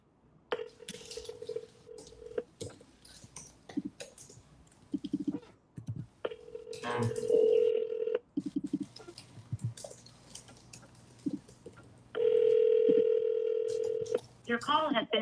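A telephone call being placed, with bursts of steady dial and ringing tones broken by pauses, while a voice talks intermittently between them.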